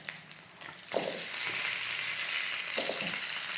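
Spices and pork trotters fry in a wok, a steady broadband sizzle that jumps louder about a second in as the trotters hit the oil, with occasional scraping stirs, close and without talk.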